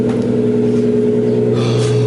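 A Nissan Skyline idles inside a garage, its engine a loud, boomy, steady drone with strong low hum and resonant tones filling the enclosed space, continuous throughout with no talking.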